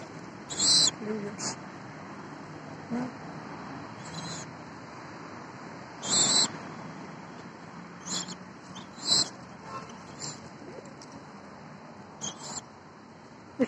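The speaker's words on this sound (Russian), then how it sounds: "Птичка, птичка." Short, sharp bird chirps come in scattered bursts over a steady outdoor hiss, some close and loud, others fainter, with long gaps between calls.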